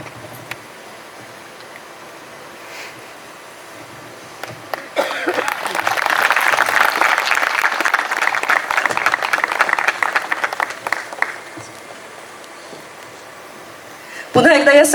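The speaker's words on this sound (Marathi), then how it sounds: "पुन्हा एकदा या सगळ्यांसाठी जोरदार टाळ्यांचा गजर करूया" An audience at the set unveiling of a TV serial bursts into sustained applause lasting several seconds, moderately loud and dense, then fades out before a fresh loud burst of clapping at the very end.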